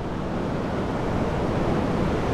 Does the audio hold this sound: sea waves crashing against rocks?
yes